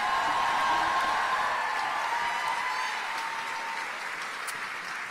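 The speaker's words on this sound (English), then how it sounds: "give another round of applause for the amazing University of Washington drumline." A crowd at a Dolly Parton event applauds the University of Washington drumline, a steady wash of many hands clapping that stays loud and even across the stretch and fades only slightly toward the end.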